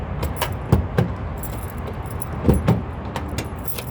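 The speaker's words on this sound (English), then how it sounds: "let me get the keys unlocked" A bunch of keys jangles up close during unlocking, with a few sharp metallic rattles and quieter shuffling in between, and no voices.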